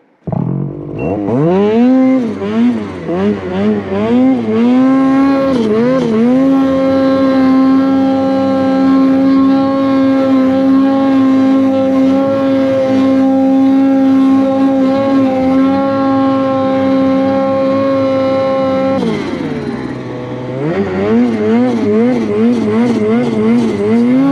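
A Ski-Doo turbo snowmobile climbs through about 18 inches of deep powder over hard snow, its engine roaring loud and close with a rising rev, a long sustained high-RPM pull, then a dip and a fresh surge.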